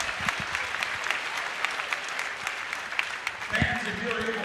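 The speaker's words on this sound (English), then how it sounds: "let's give a big round of applause to all these amazing swimmers and divers" Fans in the stands at the 2025 IHSA Girls Swimming & Diving State Finals applaud the swimmers and divers with a broad wash of clapping and scattered cheers, and a voice comes in near the end.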